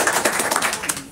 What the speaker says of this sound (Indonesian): Tanya bagi tepukan banyak.